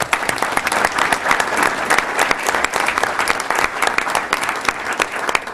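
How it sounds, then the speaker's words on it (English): A school board meeting audience claps in dense, steady applause, loud and continuous with no talking. "That deserves a round of applause."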